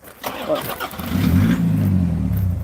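A Jaguar XJ6 engine cranks and catches, settling into a low rumbling idle, with a voice briefly audible near the start.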